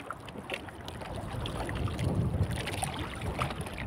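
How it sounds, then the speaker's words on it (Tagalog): Strong, steadily building wind buffets an open fishing boat at sea during handline fishing in the Philippines, a constant rushing roar with gusty microphone noise and no clear voices. "Lalong lumalakas ang hangin mga idol"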